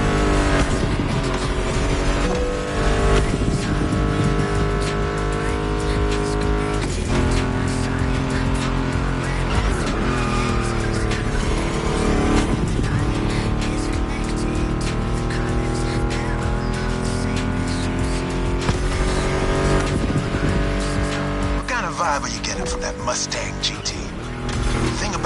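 American muscle car engines roaring and revving in The Crew Motorfest racing game, a loud continuous growl with shifting pitch and gear changes, tire noise mixed in, and a voice talking over it.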